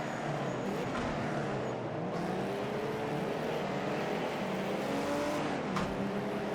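A Mercedes-Benz 300SL racing car engine roars in Project Cars 2 at Oulton Park, a steady loud engine drone that holds throughout with brief shifts in pitch.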